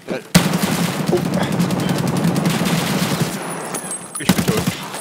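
Rapid bursts of automatic gunfire in the video game Escape From Tarkov rattle in quick succession, loud and close, with a short pause before a final flurry of shots.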